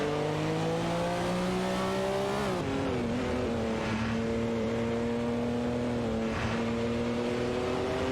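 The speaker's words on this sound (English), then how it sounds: "each car trying to outmaneuver the others on the track" Race cars on a track make a continuous loud engine drone with rising and falling pitch as they accelerate and shift, several engines blending together at close range.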